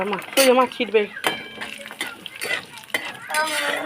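Five-spice tempering with dried chillies and whole garam masala hitting hot oil for khichuri, close clinks of a spoon against the pot and bursts of sizzle, with someone talking over it.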